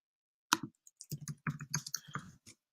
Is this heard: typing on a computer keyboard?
yes